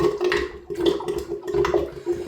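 Water gurgling and sloshing down a sink drain, with a steady low rumble and irregular bubbly surges throughout.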